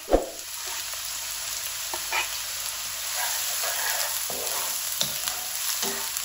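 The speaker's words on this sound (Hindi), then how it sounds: "तो थोड़ी इनकी भुनाई करेंगे कि इनका ना कच्चापन खत्म हो जाए।" Onions sizzle steadily in hot oil, a close crackling hiss with a sharp knock at the start and occasional light clinks of stirring.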